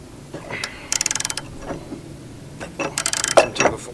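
Big ratchet on a pipe extension loosening a mower blade bolt, a quick run of sharp clicking pawl ratchets followed by creaks and a second clicking burst, close over low background rumble.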